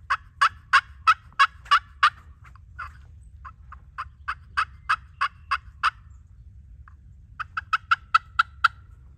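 Sharp, high turkey-call yelps from the front of the call, in quick runs of several notes separated by short pauses, close and clear over a low background rumble.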